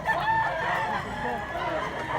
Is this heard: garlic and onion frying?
no